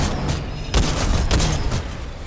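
Loud gunfire in the shooter Titanfall 2, a burst of several close, sharp shots in quick succession with no talking.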